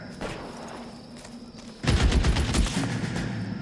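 Gunfire in the LA Noire video game during a mansion shootout: a sudden run of rapid, loud shots erupts about halfway through and rattles on in close bursts.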